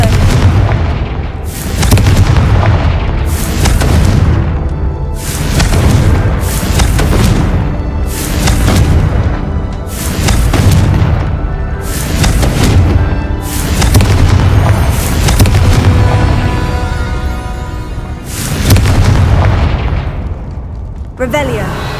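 Confringo blasting curses explode in a Harry Potter video game, about ten heavy booming blasts landing in a steady, loud succession with a rumbling bed of sound between them.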